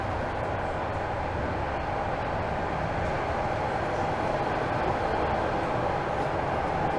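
Toronto subway train at Vaughan Metropolitan Centre, a terminal station, with a steady, loud broadband rumble and rail hiss throughout, continuous and close with no talk.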